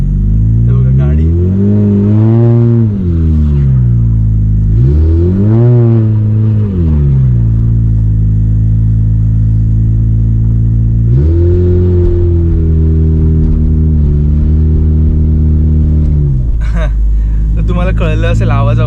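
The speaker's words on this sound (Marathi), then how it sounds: "कळलं असेल आवाजावरून, तर गाडी स्लिप झाली, कारण घसरड्या सरफेसवरून चढ हा कठीण असतो" A car revs repeatedly and loud while its wheels slip on an icy uphill stretch at a traffic signal in -30 degree Michigan cold, engine pitch rising and falling in several surges, with a voice talking briefly near the end.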